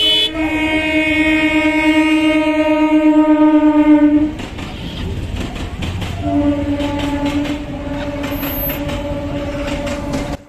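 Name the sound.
train passing on railway line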